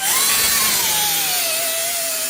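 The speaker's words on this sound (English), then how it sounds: "That's about all I'm gonna do in the 36 grit." A power sander with 36-grit abrasive works car body metal on a Crown Vic swap, giving a loud, steady high whine whose pitch drifts slightly lower over a couple of seconds, with no pauses.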